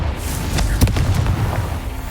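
A Confringo blasting spell goes off in Hogwarts Legacy, giving a sharp burst of impact that rolls into a dense, booming low rumble and holds steady across a couple of seconds, with no talking.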